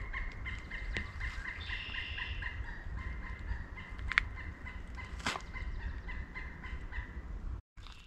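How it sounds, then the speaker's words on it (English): A pileated woodpecker calls in maple woods, its faint repeated notes rising over a steady outdoor background rumble, distant and fairly quiet, with a few sharp clicks breaking through. "Right there was a pileated woodpecker."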